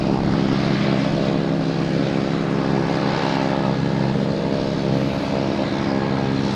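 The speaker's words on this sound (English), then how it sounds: "That's Delta coming in from Chicago." A Delta Boeing 737-800 airliner, flight 1602 from Chicago, arriving at Boston Logan Airport, heard as a steady, loud, broadband engine roar with a low tonal hum that holds evenly throughout.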